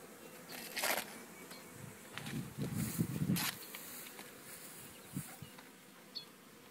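Honeybees buzz around a hive in short passes that swell and fade, some loud and near, others faint, against a quiet outdoor background.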